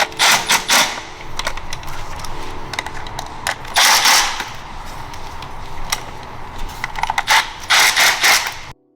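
Ratchet clicks and mechanical clatter come from spark plugs being tightened on a BMW B58 engine, close and fairly loud in short uneven bursts with brief pauses and no talking.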